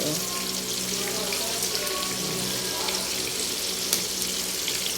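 Chicken wings frying in hot oil give a steady, dense sizzle that holds at an even level throughout, with faint crackles scattered over it and no voices.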